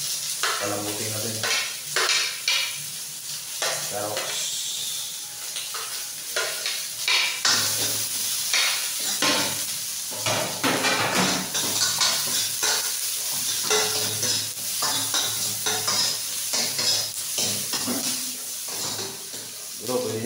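Carrots being stir-fried in a pan give a steady sizzle with repeated scraping stirs throughout, while people talk over the cooking.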